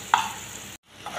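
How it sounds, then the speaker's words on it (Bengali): Tomatoes cook in a pan over low heat, a brief quiet stir and gentle sizzle that cuts off abruptly, then a faint hiss returns. "এখন কম আগুনে টমেটোটা রান্না করব"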